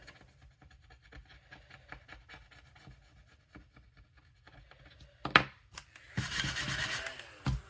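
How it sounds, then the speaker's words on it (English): A coin scratches a paper scratch-off savings challenge card in small, quiet, irregular strokes up close, then scrubs faster and louder in a dense burst near the end, with no talking. "I'm just gonna start randomly scratching on this one"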